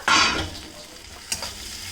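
Fried eel fish stirred into sizzling spice masala in a pan, a sharp hiss and scrape at the start fading to a steady low sizzle, with a second brief stirring clatter near the end.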